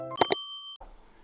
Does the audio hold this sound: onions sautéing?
no